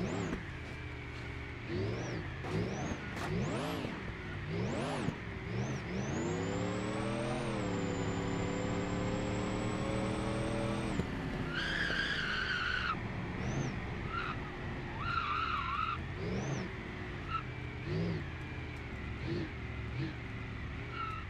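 A drag car pumps its hydraulics and revs hard, giving a long, loud engine roar with rising and falling revs, a sustained high whine and a sharp tire skid partway through.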